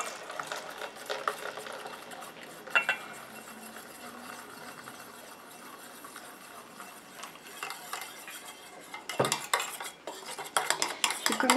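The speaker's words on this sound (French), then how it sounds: "je rajoute ma phase aqueuse à ma phase huileuse tout en mélangeant" A utensil clinks and scrapes against a bowl while melted water and oil phases for a homemade body mousse are stirred together, a soft, continuous swishing with sharper clatters toward the end.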